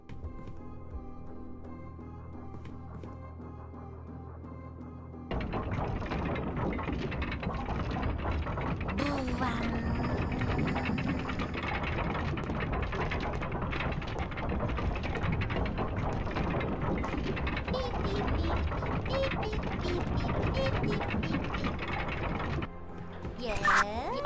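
Elevator machinery grinding and clanking in the video game We Were Here Too, a dense mechanical rumble with ratcheting clicks that starts abruptly and runs steadily before cutting off near the end.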